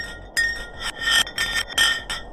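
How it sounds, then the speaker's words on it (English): A block of ice drops down a deep Antarctic ice borehole, producing a string of bright, ringing glassy clinks and scraping impacts in quick irregular bursts, with no voices. "The pitches changed over the quick descent of the block of ice, ranging from high pitch and ending with a low heartbeat-like sound."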